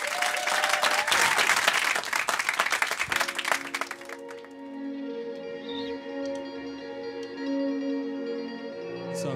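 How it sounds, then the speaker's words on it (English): A small studio audience in a lounge applauds a band with crowded, dense clapping for about four seconds. The clapping then gives way to sustained instrumental tones as the band begins. "Please, a round of applause for our new best friends."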